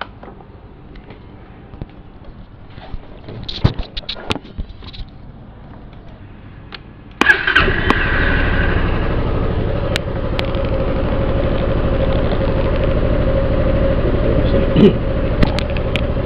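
After some clicks and handling noises, a 2019 Honda Forza motor scooter engine fires up abruptly and settles into a steady, close idle that continues to the end.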